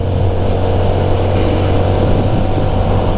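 A CF Moto NK 300, a 300 cc single-cylinder naked bike, pulls away under throttle with a steady low engine thrum and wind rush, close and continuous for a few seconds with no voices.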